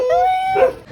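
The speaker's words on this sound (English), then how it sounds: "So she gifted us this dog." A small puppy lets out a high, drawn-out whimper that bends in pitch, followed by a short squeaky yelp, close and clear with no talking.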